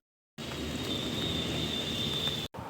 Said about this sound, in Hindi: बारिश बहुत तेज बढ़ने लगी है,